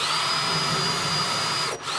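A power drill bores shelf pin holes through a jig, whining steadily and loudly up close before briefly dipping as the bit pauses near the end.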